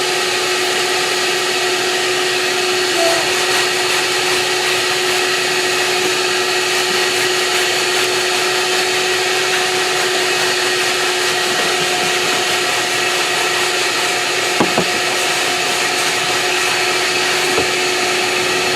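A steady motorized whine, like a wet vacuum or extractor, runs throughout while a car interior surface coated with cleaner is scrubbed, with a faint click or two partway through.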